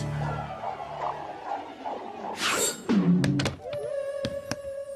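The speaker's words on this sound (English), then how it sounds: "Watch me make an outside shot." A cartoon basketball thunks off an outside shot, a single hollow impact in the middle of busy animated sound effects and music, with a sliding whistle-like tone and sharp hits following.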